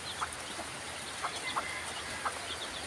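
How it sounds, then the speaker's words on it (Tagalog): Small flock of chickens with a hen and young chicks at a hut, soft clucks and peeps popping up in a few brief bursts over steady faint background hiss, fairly distant. "Diyan ang mga manok"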